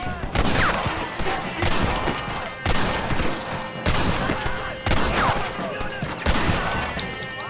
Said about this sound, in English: Was that the sniper? Alright, so the bullet just went through him.